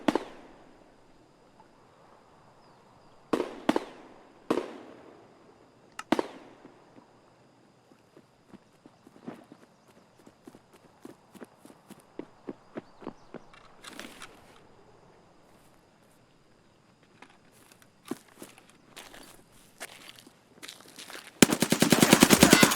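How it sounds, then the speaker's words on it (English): Footsteps crunching on gravel in Escape from Tarkov, a string of soft steps that grows louder, set among a few sharp, loud bangs and ending in a dense burst of noise. "It goes from quiet to much louder on the gravel footsteps"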